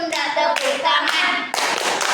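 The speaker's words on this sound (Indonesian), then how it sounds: "Tepuk siku, tepuk pundak, tepuk tangan." Children clap their hands in a rhythmic clapping song during a second-grade maths lesson, sharp group claps in steady bursts with singing voices over them.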